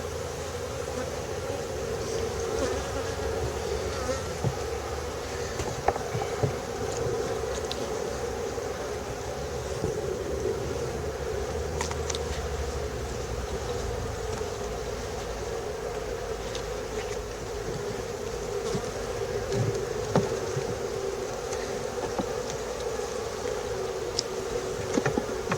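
Honey bees from an open, queenless hive in an apiary hum steadily and fairly faintly throughout, a continuous low buzz with a few soft clicks and knocks.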